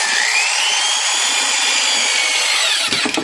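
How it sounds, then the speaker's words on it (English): A power drill whines steadily and loudly, driving screws at an angle into a wall stud while building shelves, with a brief clatter near the end. "I have to angle both of my screws in to try to catch it"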